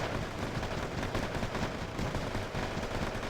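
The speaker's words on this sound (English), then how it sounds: "They do have CQC machine guns, meaning they can fire on the move of a machine gun" Dense, continuous gunfire from Marines' machine guns in the video game Wargame Airland Battle, a rapid rolling crackle of shots blending into a constant roar with no pauses.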